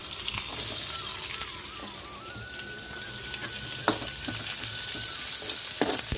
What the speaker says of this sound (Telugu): కొంచెం వేగనిస్తుంది బ్రౌన్ కలర్ వచ్చేదాకా వేస్తాం